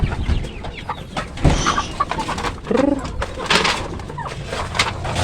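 Free-range village hens cluck and croon close by in a coop, with soft rustling and scattered brief clucks, under occasional quiet talk.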